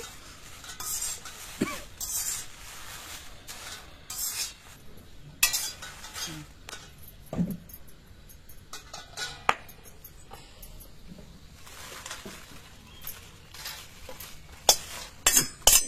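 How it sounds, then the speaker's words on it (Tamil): Sambar powder spices are roasted in oil and stirred in a pan, giving repeated scraping and clinking of a metal spoon against the pan in uneven bursts, with a soft sizzle beneath and no talking. "நம்ம எண்ணெய் கொஞ்சம் விட்டு நல்லா வறுத்து எடுத்துக்கலாம்"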